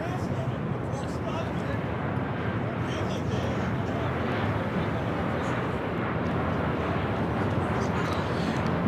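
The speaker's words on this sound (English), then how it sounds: "This arrival is Alaska Airlines 1050, coming in from Seattle on the 737-900" An Alaska Airlines Boeing 737-900 arriving from Seattle gives off a steady, loud, broadband jet roar that holds evenly from start to finish.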